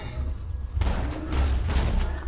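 Bursts of shotgun fire in the game Borderlands 2 rumble loudly in two dense, boomy volleys over a low, constant background drone.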